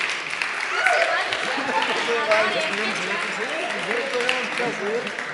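A church audience applauds a group of young performers, steady clapping from a crowd that runs throughout, with a voice speaking over the applause.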